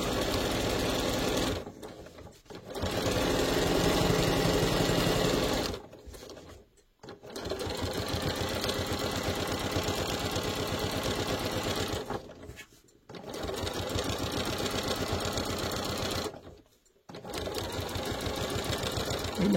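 A sewing machine stitches a toiletry bag in four long, even runs of fast mechanical whirring, each broken by short pauses as the fabric is turned. The sound is loud, close and steady, with no talk over it.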